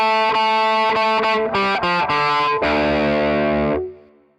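A distorted electric guitar plays a song's solo at a slow pace, a run of picked notes close and loud, ending on a low sustained note that fades out.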